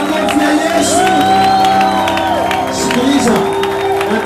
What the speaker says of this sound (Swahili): nataka tupige makofi kwa ajili ya Yesu